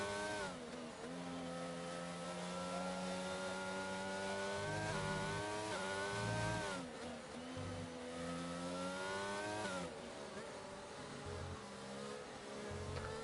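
An Aston Martin race car lapping a circuit in a racing video game, its engine revving up and down through gear changes with continuous, loud, near engine tone and no talk over it.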